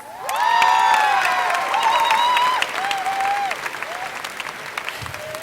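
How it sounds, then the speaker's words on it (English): Crowd applause at a 2015 high school graduation ceremony, loud clapping mixed with high-pitched cheers and whoops that swell quickly, then gradually fade. "everybody, give them a big birthday round of applause"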